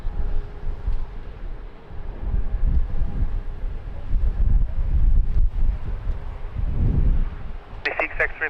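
Strong crosswind at Lisbon Airport buffeting the microphone, a continuous low rumbling gusty roar that swells and eases, with a few faint brief beeps near the end.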